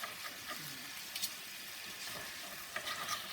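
Chicken, mushrooms and peppers fry over high heat in a pan, a steady close sizzle with occasional stirring scrapes and clatters, no talking.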